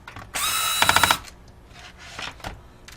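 A power screwdriver whirs loudly for under a second, then rattles in a quick burst as it backs out the two mounting screws holding a laptop's video card, followed by faint handling clicks.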